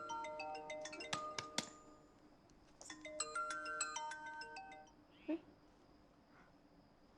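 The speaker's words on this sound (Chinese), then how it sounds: "佩芝啊，你怎么那么久才接电话啊？" A mobile phone ringtone plays in a home as a repeated electronic melody of bright tonal notes, ringing in two bursts with a brief pause between, fairly faint, with no talk over it.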